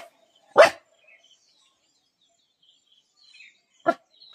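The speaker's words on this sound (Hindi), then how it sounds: "ये है डॉगी" A hill-breed pet dog gives two short, sharp barks several seconds apart, fairly close, with near silence and faint bird chirps in between.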